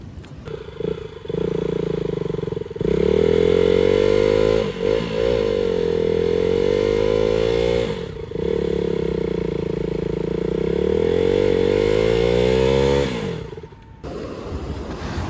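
A motorcycle engine revs loudly and steadily for a long stretch while being freed from a pit near a beach by Kakinada, rising and dipping in pitch with brief drops, close by and with no talk.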